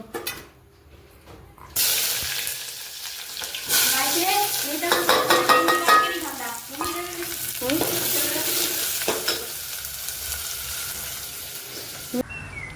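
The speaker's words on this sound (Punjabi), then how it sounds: "ਤੇ ਮੈਂ ਇੱਧਰ ਲਾ ਰਹੀ ਹਾਂ ਤੜਕਾ" Tadka tempering hitting hot oil in a pan sets off a loud, continuous sizzle that starts abruptly and runs for about ten seconds before cutting off, with faint stirring and clatter underneath.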